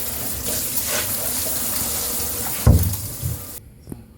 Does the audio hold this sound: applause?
no